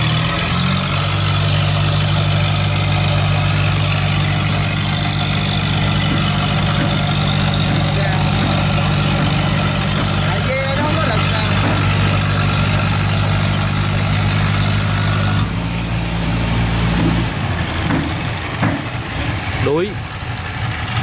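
A boat engine on a Vietnamese wooden ghe idles with a steady low drone while being throttled near a shallow dock at low tide, its pitch shifting partway through, with people talking over it.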